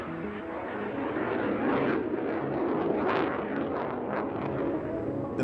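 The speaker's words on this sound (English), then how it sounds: "The maiden flight of the KAAN fighter, the country's first homegrown warplane and fifth-generation jet." A Turkish KAAN fifth-generation fighter jet roars through its maiden flight, a dense, continuous engine rumble that swells slightly in the middle and holds steady throughout, with no voices.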